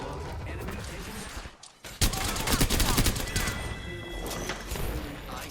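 Rapid bursts of gunfire and crashing impacts fill an Apex Legends match. After a brief lull the shots resume loud and dense, with in-game character voice lines mixed in.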